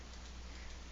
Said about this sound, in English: Oh, it's raining. That what that sound was.